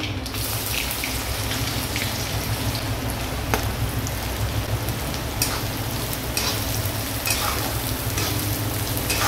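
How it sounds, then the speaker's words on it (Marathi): Mustard seeds, cumin and onion hit hot oil in a kadhai for kanda poha, giving a dense, continuous crackling sizzle like heavy rain, with occasional sharp pops and stirring scrapes, close and loud throughout, without talking. "आता मोहरी, जिरे, कांदा घालून घेऊ।"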